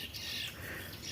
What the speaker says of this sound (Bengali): এবং বাবুই পাখিদের কিচিরমিচির